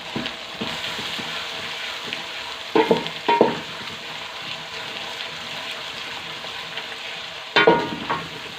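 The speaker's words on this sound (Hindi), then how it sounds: "इसके साथ ही हम लहसुन अदरक का पेस्ट डालेंगे। और अच्छे से इसको मिक्स कर लेंगे और इसको अच्छे से फ्राई कर लेंगे।" Garlic ginger paste fries with browned onions in a pan for a chicken and bottle gourd dish. A steady hiss of sizzling oil runs throughout, and a few louder bursts of stirring and scraping stand out, with no voices.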